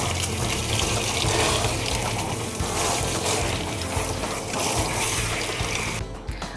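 Running water rinses shampoo from the fur of a short-haired cat or dog, a continuous loud gushing splash that holds steady and cuts off abruptly near the end.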